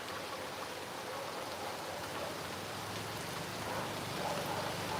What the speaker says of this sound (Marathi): आता थोडा पावसाने स्पीड कमी केला